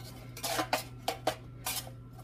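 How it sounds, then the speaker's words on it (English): Knife clinking and scraping against a plate while mixing basil over tomato slices for a toasted tomato and cheese sandwich, with about six light metallic taps in quick succession, close and fairly quiet over a steady hum. "take my knife and just kind of mix them around"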